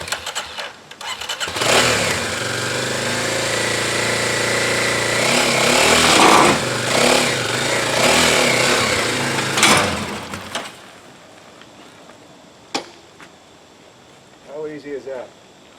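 A motorcycle engine fires up and runs loudly and steadily for several seconds as the bike is ridden off a hitch-mounted carrier rack, then cuts off, leaving quiet background and a few faint knocks.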